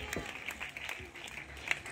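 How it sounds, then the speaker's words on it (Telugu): A church congregation claps their hands during worship in a continuous, fairly quiet patter of many hands, with a preacher's voice talking over it. "చప్పట్లు కొట్టి దేవుని నామాన్ని మహింపరచండి"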